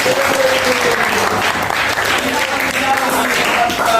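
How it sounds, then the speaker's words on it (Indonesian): Applause from a class of students in an Indonesian classroom, a dense steady wash of clapping for about four seconds, with a few voices faintly audible underneath. "tepuk tangan dulu untuk kelas ini."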